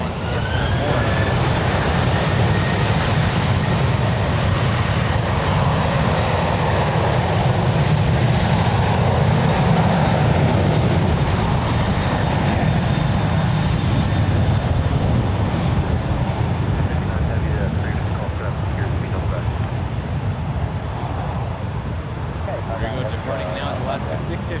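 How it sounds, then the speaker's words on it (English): Alaska Airlines Boeing 737-800 departing San Francisco International Airport for Seattle, a steady loud jet engine roar with wind rumble, continuous and fairly close, with a person talking over it. "Departing now is Alaska 655, headed up to Seattle, this Boeing 737-800."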